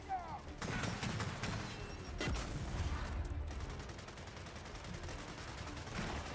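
Gears of War 4 gunfire crackles in bursts of rapid shots over a dense battle din, with a few heavier bangs punching through, fairly quiet overall.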